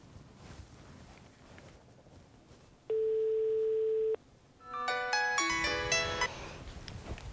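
A telephone call rings out to someone at a Haute-Savoie environmental association: one long steady ringback tone, then a burst of bright electronic tones and a noisy line just before pickup, fairly quiet overall.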